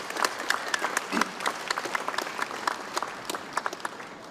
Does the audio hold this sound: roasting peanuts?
no